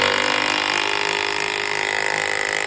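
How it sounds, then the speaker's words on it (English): A Milwaukee 2754-20 3/8-inch brushless impact wrench in power mode 3 and a Hercules brushless impact wrench in drill mode 1, both on fully charged batteries, run together with a loud, steady, close mechanical whine throughout. "Milwaukee 3/8 inch impact wrench, power mode 3, fully charged, versus Hercules drill mode, mode 1,"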